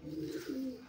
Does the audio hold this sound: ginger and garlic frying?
no